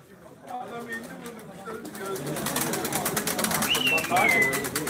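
Tumbler pigeons coo softly at a bird sale, low rolling calls mixed with indoor chatter and someone talking, plus a brief higher chirp near the end.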